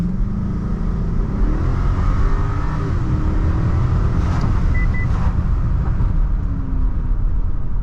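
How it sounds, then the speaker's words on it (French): A 2009 Cadillac STS 4.6-litre V8 engine revs and growls continuously, a deep rumbling roar that rises and holds, loud and close. "le bruit du V8, ça restera toujours le meilleur bruit pour moi"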